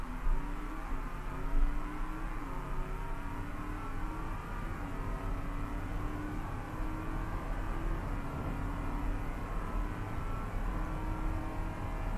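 A car in the Automation driving game, the AMW Grizzly, accelerates at full throttle with a steady, loud engine roar that holds without a break for about twelve seconds.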